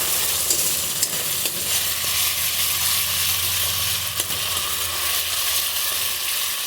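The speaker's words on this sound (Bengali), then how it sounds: "এটা দিয়ে একটু নাড়াচাড়া করে তারপর দেবো টক দইটা।" Steady, loud sizzling as soybean muitha is stirred in a frying pan, a continuous hiss of frying with faint scraping from the stirring, close and with no talking.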